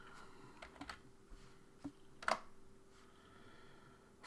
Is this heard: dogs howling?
no